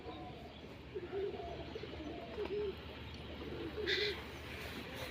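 A dove coos nearby in repeated low, soft phrases against a steady background hum, with a brief higher chirp from another bird near the end.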